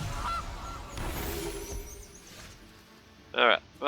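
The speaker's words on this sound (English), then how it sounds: "Another goose." A goose honks in the card game MTG Arena, two short honks arriving near the end, after a stretch of quieter game sounds and a busy start.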